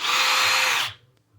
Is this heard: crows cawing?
no